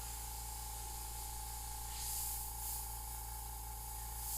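An airbrush sprays paint for a custom tattoo-style skull and water piece, giving a quiet continuous hiss over a steady low electrical hum, with a few slightly stronger bursts of spray near the middle and the end.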